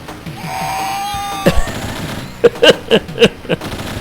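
Uzi gunfire in the 1991 Leland arcade game Brute Force sounds as a string of loud, punchy bursts of shots, spaced roughly evenly over the last two seconds after a sustained electronic game tone.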